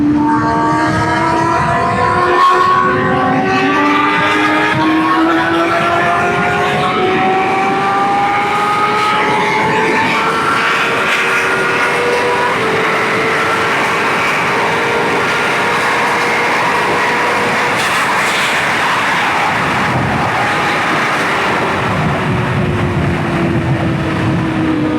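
A Honda Fireblade and a Kawasaki Ninja H2 accelerating hard. The engine whines climb steadily in pitch through the gears and stay loud and continuous, with rushing wind behind them.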